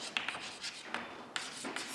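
Marker or chalk writing on a classroom board during a physics lecture, faint scratchy strokes and soft taps in short irregular bursts, close but quiet, with no talking.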